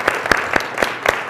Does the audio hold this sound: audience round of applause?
yes